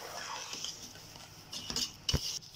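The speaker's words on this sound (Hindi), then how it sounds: "ये देखें, हम चीनी मिक्स कर लेंगे।" A metal spoon scrapes and clinks against a pan as 500 grams of sugar is stirred into halwa, soft close scraping building to a couple of sharper knocks near the end, with no talking.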